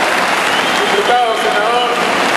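Applause from the audience at a union youth gathering, a steady dense patter of clapping with voices briefly rising over it near the middle.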